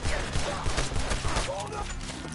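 Rapid gunfire crackles without pause during a frantic shootout in Red Dead Redemption 2, with shots overlapping one another and voices shouting over the din.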